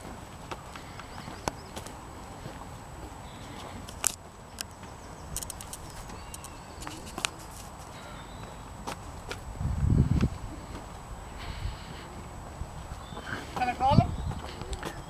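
A horse walks at the Irish National Stud with slow, irregular hoof clops under a steady hum of background noise, with a couple of louder knocks nearby.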